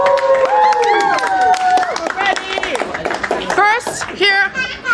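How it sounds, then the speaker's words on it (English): An audience at a gym fitness-challenge finale claps loudly, mixed with whoops and excited voices that ride over the applause throughout. "Audience, give me a big applause."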